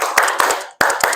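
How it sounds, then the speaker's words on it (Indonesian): A group in a classroom claps in sharp, unison bursts, loud and close, with a short pause between a clustered pair of claps and the next ones. "Tepuk mantap 3 kali."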